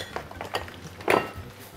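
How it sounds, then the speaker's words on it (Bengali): Onion tipped from a bowl into a pan of hot mustard oil for beef kosha, with a few quick clinks of metal and a short burst of scraping and sizzle, close and moderately loud. "পেঁয়াজটা পুরোটা ঢেলে দিলাম।"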